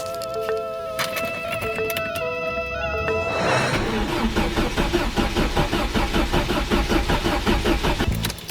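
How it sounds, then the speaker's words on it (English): A Vauxhall Calibra Turbo engine cranks with a rapid rhythmic churn for a few seconds, then catches and settles into a steady running idle, close by. "I'm going to take this relay out so we can turn the car over"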